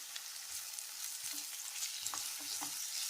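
Chopped tomato, coriander and mint sizzle and fry in a pan for egg pepper, a soft steady crackle with a few light stirring clinks, quiet and close, no talking.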